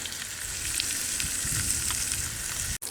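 Onions fry in a pan at an outdoor wild camping spot, giving a constant crackling sizzle with small pops, close and steady, briefly cut near the end.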